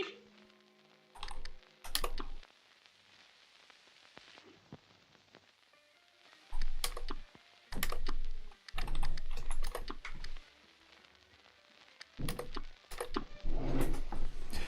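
Computer keyboard typing during a Cuphead gaming session: short bursts of quick clicking separated by quiet gaps, close and moderately loud.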